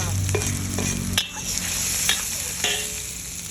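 Onion and garlic sauté in a pan for ginisang mongo, with a steady close sizzle and a few scraping stirs of a utensil against the pan.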